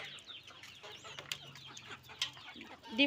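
Chickens cluck softly and intermittently while pecking at their feed, faint and close, with small scattered peeps and scratches and no talking.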